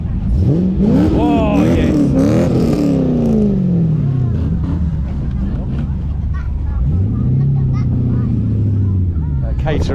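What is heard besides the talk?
burbly V8 classic car engine revving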